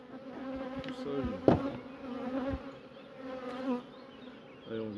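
Honeybees buzz around an open hive colony in early April, a continuous close droning hum with individual bees passing near and away, plus a few faint knocks.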